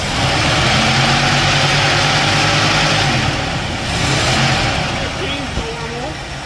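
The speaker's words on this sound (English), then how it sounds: "Rev it up." A forgotten junkyard Ford Thunderbird engine runs loud and close, holding heavy sustained revs before easing toward idle, with people talking over it.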